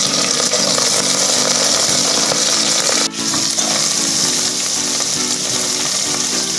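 Dry red chillies, curry leaves and green chillies sputter as a tempering in hot oil, with loud, continuous sizzling and crackling, close by and without talk.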